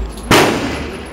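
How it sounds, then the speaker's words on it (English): A single loud, close shotgun blast from a double barrel shotgun, a sharp crack followed by a decaying boom that rings out for about a second. "Double barrel shotgun."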